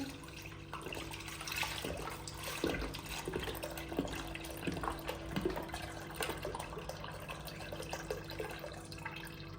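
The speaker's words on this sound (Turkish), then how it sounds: "Sütümüzü döktük." Milk pours into a pot for a baklava cream made with flour and sugar, a soft close liquid splashing with small clinks and drips throughout, no talking.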